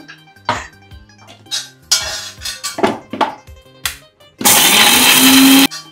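A kitchen mixer grinder whirs loudly as it blends green chilli and salt, a steady burst in the last second and a half, after scattered clinks and clatters of pots and utensils.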